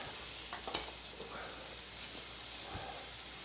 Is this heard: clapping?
no